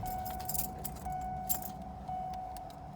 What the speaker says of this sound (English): I need two hands to get the key out of the ignition.